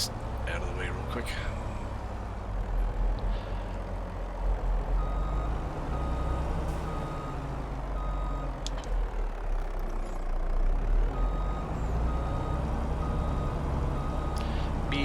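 A truck in Farming Simulator 22 gives faint repeating reversing beeps over a low engine rumble, with someone talking over the game sound.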